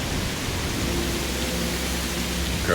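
Continuous rainfall in a nighttime video game scene outdoors among vegetation, a broad steady wash of hiss at moderate level with no gaps, swelling slightly at the very end.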